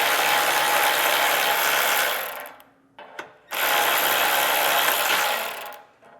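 A hand ratchet spins off the 13mm nut on a car's exhaust hanger bracket in two long bursts of fast, dense clicking with a brief pause between them, close and loud with no voices.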